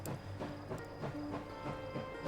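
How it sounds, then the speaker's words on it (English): A large, slow locomotive in the game Last Train Home rolls steadily along its route, a continuous low rumble and hiss with faint rhythmic clatter, heard alone with no voices. "Half of the joy of this game is just watching the locomotive go between its waypoints."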